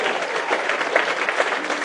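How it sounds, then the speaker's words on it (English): An outdoor crowd at a Veterans Day ceremony at Malibu City Hall gives a swing dance group a steady round of applause, dense and fairly close, with a few cheers mixed in. "let's give the swing dance posse a round of applause as well"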